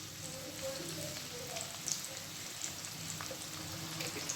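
Dragon chicken sizzles and fries in a pan, a steady crackling hiss with small scattered pops, close and moderately loud throughout.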